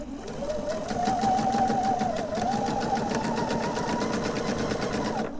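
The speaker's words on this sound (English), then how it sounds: "line the fabric up with the edge of the foot and then literally sew" Domestic sewing machine stitching patchwork fabric with a quarter-inch foot, a steady close whirring motor with rapid even needle clatter running unbroken for several seconds.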